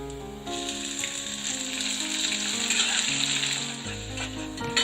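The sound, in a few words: small onions (shallots) frying in oil with fennel, curry leaves, garlic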